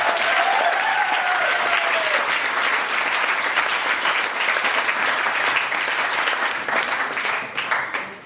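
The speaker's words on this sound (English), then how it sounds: "So a massive round of applause for Adam and Linda." Loud, sustained applause from a large crowd at a wedding speech, dense clapping filling the whole stretch before tapering slightly at the end.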